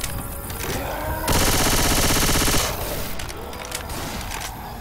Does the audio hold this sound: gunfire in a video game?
yes